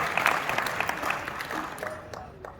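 An audience at a talk on artificial intelligence in medicine and magic breaks into applause and cheering, a dense wash of clapping that gradually fades over a few seconds.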